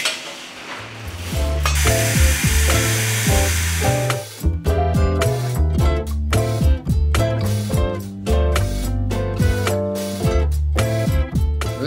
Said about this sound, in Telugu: సో పెసర ఆవకాయకి పెసరపప్పు ఫ్రై చేసి పొడి చేస్తాం అన్నమాట